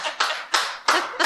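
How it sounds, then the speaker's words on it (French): Audience applause at the close of a live podcast recording in a café, a short burst of close, sharp hand claps in quick uneven bursts. "Une bonne main d'applaudissements!"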